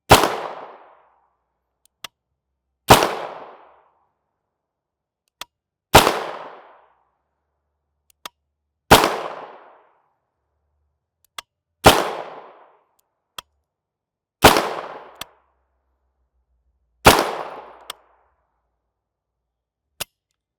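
Surplus ROF Radway Green MK2Z 9mm rounds fire one at a time, seven sharp loud shots spaced roughly every three seconds, each trailing a short decay, with faint clicks between them.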